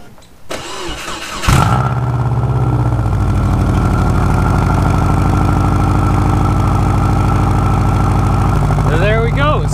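A Subaru engine cold-starts after a brief crank, catching sharply and settling into a loud, steady idle close by, with a voice talking faintly near the end.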